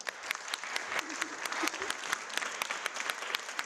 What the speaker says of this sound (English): Please give a large round of applause to Ravi Bala.